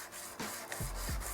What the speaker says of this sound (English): So I'm going to sand the middle section of my blade